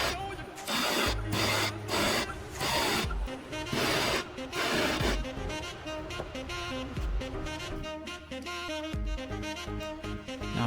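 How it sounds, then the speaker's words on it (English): Hand filing around the inside of a freshly torch-fused metal moissanite ring, smoothing rough spots: steady back-and-forth rasping strokes, close and continuous, with a busy layered texture and no talk. "Now I'm just filing off any rough spots and making it perfectly smooth all the way around the inside of the ring"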